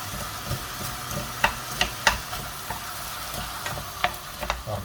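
Chopped spinach going into a frittata of eggs and mushrooms cooking in a frying pan, giving a soft steady sizzle with a few sharp clicks and scrapes of stirring, fairly close, no talking.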